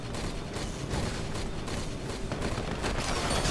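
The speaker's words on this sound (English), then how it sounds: "a normal artillery battle on Chasm will start right now" Dense, continuous artillery and gunfire from a battle on the Chasm map of a video game, a loud, unbroken barrage of overlapping blasts and crackling shots that stays intense throughout.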